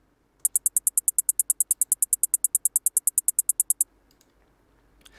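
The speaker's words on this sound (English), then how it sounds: "I found some hats in my packs, and I just kind of threw down a simple two-step." A simple two-step hi-hat pattern for a Pluggnb beat plays alone: crisp, bright electronic ticks repeat at a fast, even rate for about three and a half seconds, then stop.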